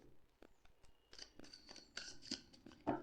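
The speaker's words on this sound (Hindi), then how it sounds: "Let me shuffle." Tarot cards being shuffled by hand, quiet, crisp papery flicks and riffles in short irregular bursts, close and alone with no talk.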